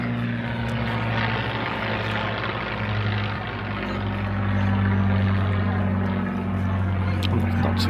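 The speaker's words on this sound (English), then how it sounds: "that was the usual Spitfire visit" A Spitfire propeller plane drones overhead above a seafront, a steady throbbing engine hum that swells and fades slightly over several seconds amid outdoor background noise.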